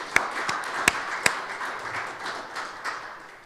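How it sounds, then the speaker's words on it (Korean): Sparse applause from a conference audience in a Seoul convention-center conference room at a robotics future strategy event: a few sharp claps stand out over a faint, diffuse patter that fades over a few seconds, with no talking. "큰 박수를 한번 드리고 부탁드립니다"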